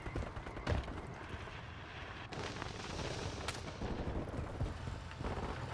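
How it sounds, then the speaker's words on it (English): A dull bomb blast in Call of Duty Modern Warfare 3 rings out amid faint scattered combat noise, with a sharp thump early on and another burst later, all fairly quiet and distant. "They threw a bomb over there."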